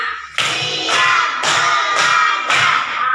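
Five loud, evenly timed group claps from an elementary classroom of fourth graders doing a concentration-clap routine, each burst crisp and close with a short decay.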